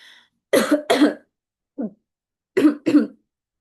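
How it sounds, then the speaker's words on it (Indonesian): Four short coughs in two quick pairs, close and fairly loud, with a softer throat sound between them. "maaf ya guys agak batuk dikit."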